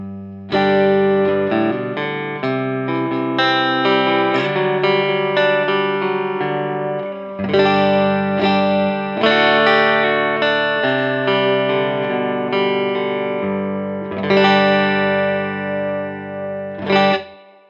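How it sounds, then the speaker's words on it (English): Electric guitar chords, strummed and sustained with a gritty, overdriven crunch tone from a Teisco Distortion pedal into a clean amp, playing a short riff with brief pauses between phrases. "I've got the Teisco Distortion going straight into the front of the clean Black Spirit"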